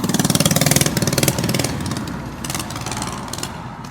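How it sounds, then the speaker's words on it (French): Loud motorcycles arriving, their engines close and throbbing in a fast rapid pulse at first, then blurring into a sustained rough roar that eases slightly toward the end. "J'ai ces motos qui font énormément de bruit qui arrivent"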